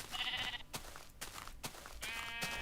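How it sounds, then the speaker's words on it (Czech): Sheep in the game Minecraft bleat in short nasal cries, two clear calls at the start and end with thumps and game noise between, moderately loud and close with no talk. "Nepotkal jsi někde ovečky?"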